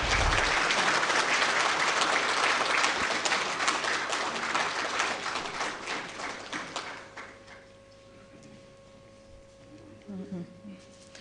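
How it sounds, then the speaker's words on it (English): Delegates at a book release function give a big round of applause, dense clapping filling the hall for about seven seconds before it thins out and fades, with faint voices and a brief tone afterward. "May I request all the delegates to give a big round of applause"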